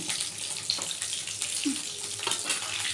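Spiced topse (mango fish) fry sizzles in hot oil in a pan. A continuous, even hiss of frying holds close and steady, with a few small crackles and no talking.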